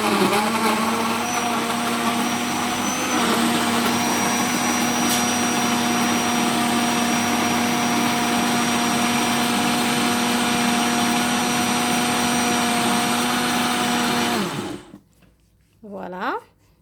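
A blender whirs steadily and loudly as it mixes ripe bananas into juice, a continuous motor drone lasting about fourteen seconds before it cuts off abruptly, followed by a brief quieter sound.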